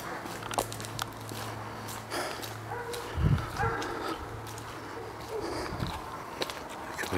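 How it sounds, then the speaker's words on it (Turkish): Dogs bark a few times in the distance over a steady low hum and outdoor background noise, with short bursts scattered through the clip. "Köpek sesleri de geldi"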